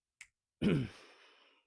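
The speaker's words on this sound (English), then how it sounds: "as soon as I snap my fingers" A single crisp finger snap rings out close and alone in a quiet room, followed a moment later by a louder breathy sigh-like burst that fades out.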